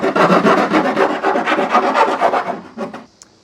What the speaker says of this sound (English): Use a file to clean these edges up.